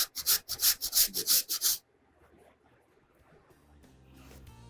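Palm jaggery (patali gur) rubbed over a grater while making a layered milk sweet, a quick run of about eight loud, close scraping strokes that stop abruptly, then faint kitchen rustling.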